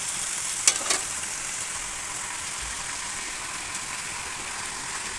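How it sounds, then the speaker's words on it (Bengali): Malabar spinach and sweet pumpkin pieces cook in a hot pan with a steady, even sizzle, marked by two quick stirring clacks near the start and then a continuous hiss. "আমি পুঁই শাক আর মিষ্টি কুমড়া একসাথে দিয়ে দেব,"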